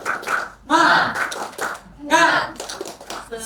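A classroom group doing the rhythmic 'tepuk semangat' clap chant, short bursts of clapping alternating with loud shouted chanting voices, close and lively.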